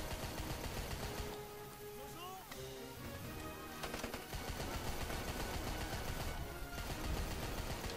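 Dense, rapid gunfire rattles almost continuously in a noisy battle in the video game Rambo The Video Game, with a short lull before the shooting swells again.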